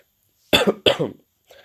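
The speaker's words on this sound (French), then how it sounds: "Si je tousse et tout, c'est parce que je suis un peu malade" Two sharp coughs in quick succession, close and clear, followed by a faint softer sound after a short pause.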